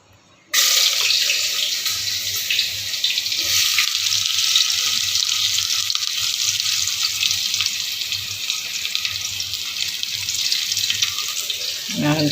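Onions being sautéed in a pan for a Filipino ginisang dish produce a steady, dense sizzle that starts abruptly and continues loud and unbroken for about twelve seconds, close to the listener.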